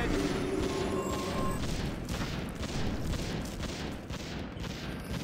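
Dense, continuous gunfire and clashing from a Warcraft 3 custom-map battle, a loud unbroken barrage of rapid shots and impacts with no pauses.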